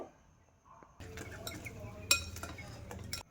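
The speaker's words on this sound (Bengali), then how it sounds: "এবার ভালো করে মিশিয়ে নেব" Cake batter with egg is mixed in a bowl, a utensil clinking and scraping against the sides in quick, irregular strokes that start faint and grow busier and louder.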